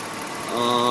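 A 2005 Chevy Avalanche engine with replaced high-flow catalytic converters and new plugs and wires idles smoothly, a steady close hum that swells slightly toward the end.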